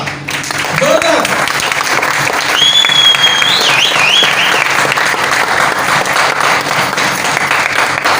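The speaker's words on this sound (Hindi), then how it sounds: "तो जोरदार तालियों के साथ, जोरदार।" Loud, sustained applause from a seminar audience in Berhampur fills the whole stretch at an even level, with a few brief voices and whistle-like tones rising above the clapping.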